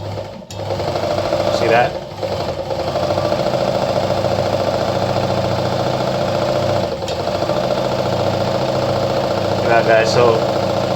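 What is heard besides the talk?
Anker RZ treadle sewing machine winding a bobbin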